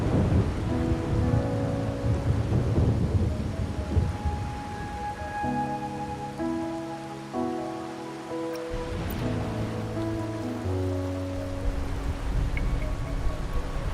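Rain and thunder in Wuthering Waves: steady rainfall pours throughout, with heavy rolling thunder rumbling early on, while soft sustained music notes play underneath.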